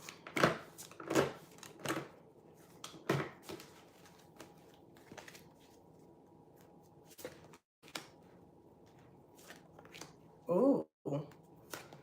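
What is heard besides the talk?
shuffling tarot cards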